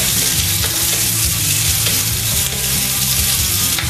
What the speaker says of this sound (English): First thing I'll chuck in there is our onion. There we go. Give it a bit of a stir.